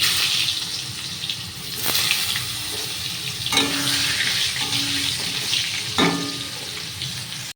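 Potatoes frying in oil in a wok for a home chicken biryani, a dense continuous hissing sizzle close by, with a few clanks and scrapes of a utensil against the pan, no talking.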